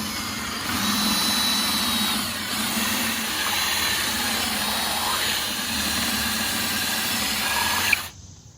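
A power drill bores drainage holes through the bottom of a wooden birdhouse, a steady mid-pitched motor whine with slight wavering under load, running close and continuous for about eight seconds before stopping abruptly.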